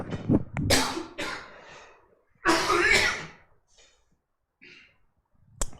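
A few harsh, breathy coughs burst out close by, separated by short pauses, followed by quieter breaths and a sharp click at the end.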